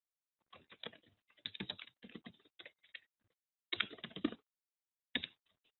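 Quick bursts of computer keyboard typing while code is written, clustered clicks separated by short pauses, close and fairly quiet with no talking.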